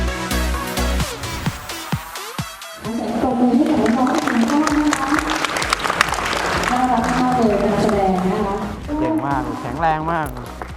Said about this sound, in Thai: ปรบมือต้อนรับดรสุทธิพงศ์มีชัยพรเลขาธิการ